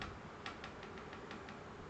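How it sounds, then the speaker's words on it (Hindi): A pen is clicked over and over, about seven crisp, faint clicks at a fairly even pace against a low background hiss, with nobody talking. "अब मैं इसको क्लिक करता रहूँगा इस तरह से,"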